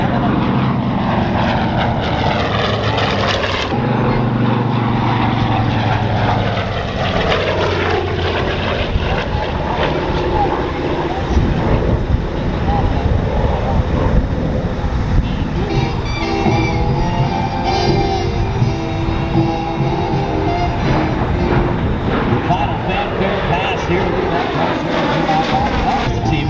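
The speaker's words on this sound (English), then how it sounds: "Look at that gorgeous airplane as it comes by." A TBM propeller warbird flies past at an airshow, its piston engine drone loud and sustained, swelling and shifting as it passes, with a commentator talking over it.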